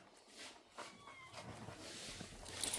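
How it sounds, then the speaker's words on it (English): Kittens separated from their nursing mother on a farm in Bradford County, Florida mew repeatedly, thin and fairly close, over a faint rustling background. "they're meowing because they want their mother"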